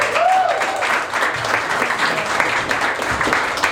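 Comedy club audience applauding a comedian as he takes the stage, a steady dense wash of clapping that fills the room for several seconds with a brief voice near the start.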